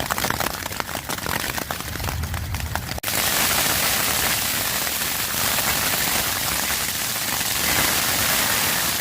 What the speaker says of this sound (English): Yeah, we've got hail today.